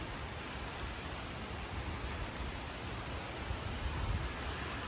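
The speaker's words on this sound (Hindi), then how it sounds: "बारिश अब फिर से पड़ चुकी है। और हवा देखो कितनी तेज़ है।" Steady rain falls with gusty wind in a garden where papaya trees are being battered, a dense continuous hiss with rushing low rumble, close and unbroken, no voices.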